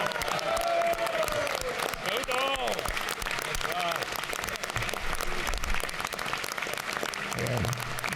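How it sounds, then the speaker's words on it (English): Lawmakers applauding in a legislative chamber in honour of the University of Georgia's 240th birthday, dense clapping with whoops and cheering voices rising over it. "I asked you to give the University of Georgia on its 240th birthday a round of applause"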